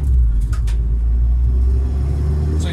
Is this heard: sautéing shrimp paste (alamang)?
no